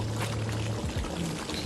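Water poured into a cooking pot of half-cooked chicken and rice for biryani, a steady close splashing pour that runs briefly and then settles, with no talking over it.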